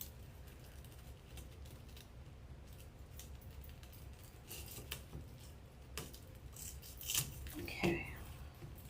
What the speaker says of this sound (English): Cut it off as close to the zip tie as we can so you don't see the end.